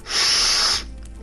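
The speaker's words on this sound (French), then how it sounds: "ce bruit de reniflement" A person with a runny nose gives one long, loud, wet sniffle or snort lasting nearly a second, close up, then it stops abruptly into quiet.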